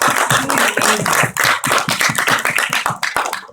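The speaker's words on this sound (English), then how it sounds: "Give them a round of applause." An audience claps for a youth performing group at a 2015 winter final event in Korea, a loud, close burst of dense, steady clapping that holds through to the end.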